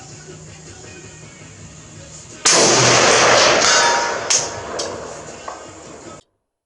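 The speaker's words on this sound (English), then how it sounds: "Ooh, look how it hitting that steel there. Okay, I want to shoot 1 more." A 7.62x51mm Galil rifle by Hillbilly Firearms fires a single loud, close shot at a steel target, the sharp blast decaying with a couple of faint metallic rings after it.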